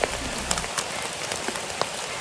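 Steady rain falls during a hike in Algonquin's Western Uplands, a dense, even hiss of drops on surfaces nearby. Scattered louder individual drops tick through it and no voices are present.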